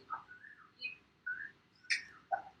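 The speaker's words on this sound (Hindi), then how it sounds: "मैं नहीं, बाहर कोयल ही बोल रही है" Faint outdoor birdsong from an Asian koel: several short, rising whistled calls spaced about half a second apart, heard distantly against a quiet background.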